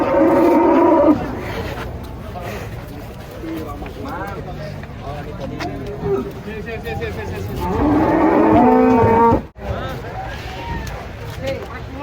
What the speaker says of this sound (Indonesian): Sapi-sapi unik di pasar Jelok.